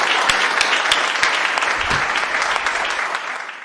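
A gathering applauds loudly to welcome a comic poet to the stage, a dense burst of clapping with sharp individual claps standing out, gradually thinning and fading toward the end.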